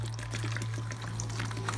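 Water poured from a container into a pot of harira soup holding chickpeas, onion, lentils, meat and spices; a steady, close splashing pour with a low hum underneath.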